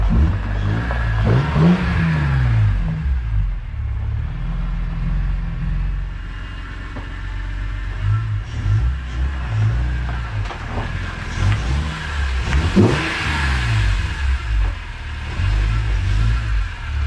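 A BMW CSL engine fitted with a redesigned airbox revs and drives off, rising and falling through two clear pulls with a steady rumble in between, close and loud.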